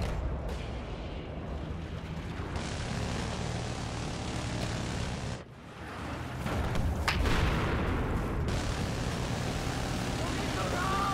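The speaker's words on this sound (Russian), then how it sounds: "I have eyes on enemy airplane west of your current position." An enemy propeller airplane drones overhead in a Battlefield match, a loud steady engine roar that swells near the middle, mixed with distant gunfire and a voice talking over it.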